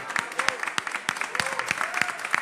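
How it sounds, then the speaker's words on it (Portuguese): Audience applause at a live bar music show in Brazil, a steady patter of clapping hands from a small crowd with voices mixed in. "deixa eu pedir uma salva de palmas aqui pro Amado."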